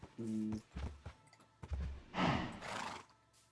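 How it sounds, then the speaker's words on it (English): A young foal whinnies in a high, shaky neigh in Minecraft, followed by snorts and breathy blows at close range, with a soft thud or two. "That's still a little colt"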